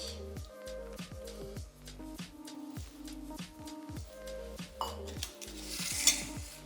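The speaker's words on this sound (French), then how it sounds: "Apollin, tu peux mettre tes œufs dans ton sucre et tu vas fouetter." Eggs being whisked into sugar in a bowl for chocolate cakes: a steady, rhythmic run of whisk strokes clattering against the bowl, close but moderate in volume, with a slight hum underneath.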